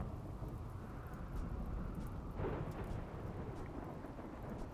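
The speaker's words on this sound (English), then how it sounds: "I'm glad it's raining now." Rain and thunder from a storm in the RimWorld video game, a steady broadband rain wash with a low rumble swelling near the middle, continuous and fairly quiet with no talk.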